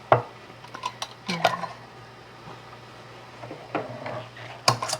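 Glass jars of apple jelly being handled with their lids, giving sharp clinks and taps of glass and metal at the start, middle and end over a low steady hum.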